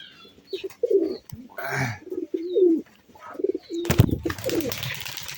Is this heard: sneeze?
no